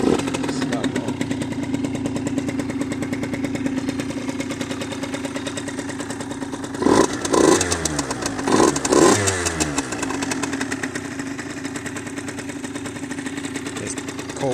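The cold engine of a 2016 Derbi Senda X-Treme DRD SM 50 supermoto idles with a steady buzzy rattle, then gets a couple of sharp blips of revving before settling again. The engine is close and loud.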